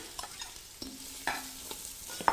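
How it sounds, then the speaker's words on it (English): Onion goes into a pan of cooking sausage, giving a soft sizzle with a few sharp clinks and scrapes of a utensil against the pan. The sound is brief, close and moderately quiet, with no voices. "So next we're going to add the onion,"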